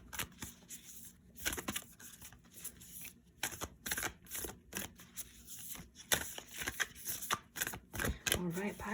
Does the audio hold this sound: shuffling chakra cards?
yes